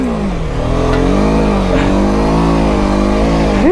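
A BMW F 450 GS adventure motorcycle revving hard on an off-road trail, its engine loud and close, holding a steady, rising growl for the whole stretch with no pauses.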